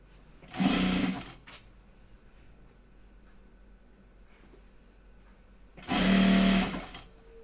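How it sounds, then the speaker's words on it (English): A sewing machine stitches closed the turning hole of a bag, two separate short bursts of fast, buzzing needle rattle about a second each, close and clear, with quiet between. "So we're going to sew our hole shut now that we used to turn it."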